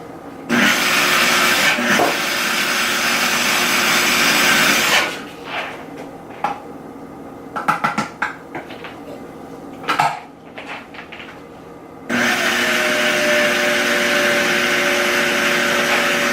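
A kitchen blender purees Hot Moonbeam Salad ingredients with oil in two long, loud, steady whirring runs. A stretch of quieter clatter and handling knocks falls between them.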